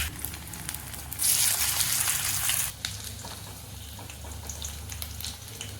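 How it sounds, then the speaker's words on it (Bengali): Bora fritters fry in a pan with a steady crackling sizzle that swells louder for about a second and a half, then settles back to a softer continuous hiss. "রাতে এই বড়াটা ভেজে নিচ্ছি"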